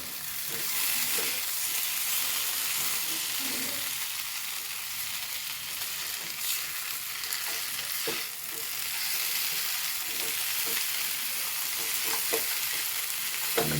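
Chicken with masala being stirred in a pan over heat, a steady frying sizzle running throughout with occasional scraping strokes of the spoon, close and moderately loud, no voices.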